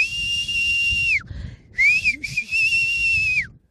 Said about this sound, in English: This whistle means that she's trying to tell the cranes that you should wait for other companions to eat together.